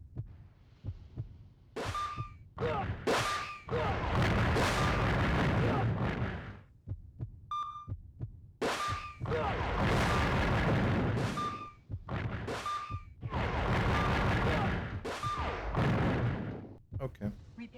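Gunfire from a weapon in the PS1 video game Kileak The Blood: repeated loud bursts of shots in clusters, interspersed with brief electronic beeps, with a speaking voice also present.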